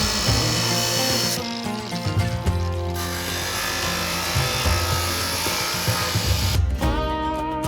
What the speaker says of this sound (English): you can take a lot of plastic off pretty quick with this sander